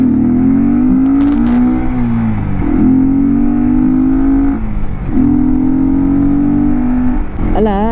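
A motorcycle engine drones steadily up close, its pitch rising and dropping through several gear shifts with a brief high squeak at the end.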